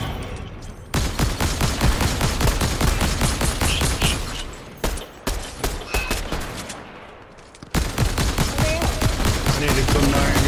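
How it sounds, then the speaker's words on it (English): Rapid, loud bursts of cannon fire repeat in dense volleys from a video game, with brief pauses between barrages. "Hit him, hit him with the cannon."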